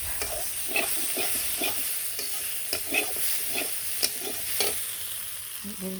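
Spices being sautéed for a curry of potato, eggplant and catla fish, with a soft continuous sizzle under rhythmic scraping strokes of a spatula stirring the pan, close by and without voices.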